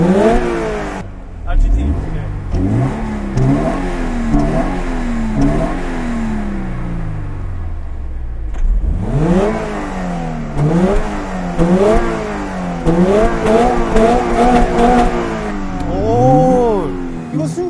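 A Toyota GR86 sports car engine revs hard and repeatedly, pitch sweeping up and down through high rpm, loud and close, with people talking over it.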